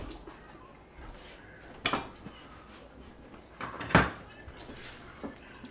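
A honing steel pulled from a kitchen drawer among knives and cutlery, heard as faint rattles with two sharp metallic clacks, a brief one then a louder one, over a quiet room.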